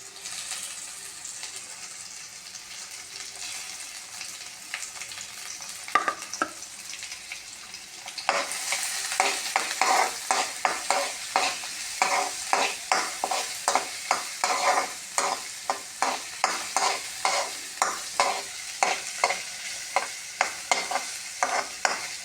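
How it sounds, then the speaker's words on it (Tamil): Onions with curry leaves sautéing in a hot pan for vegetable sambar, a steady loud sizzle with rhythmic stirring scrapes that grow busier and more regular partway through. "நல்லா கொஞ்சம் சவக்கிற அளவுக்கு வெங்காயத்தை வதக்கிங்க"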